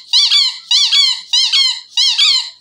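A squeaky dog toy squeaks four times in an even rhythm, each squeeze a sharp, bright double squeal, loud and close against silence.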